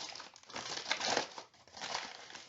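A crumpled ball of brown paper is pulled open again to make a faux leather texture, giving close, crisp crinkling and rustling in two bursts with a short pause between them.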